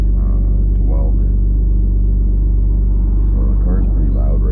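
A 3rd-generation Mitsubishi Eclipse Spyder GT idles with a loud, steady low exhaust rumble that drones throughout, with someone talking over it.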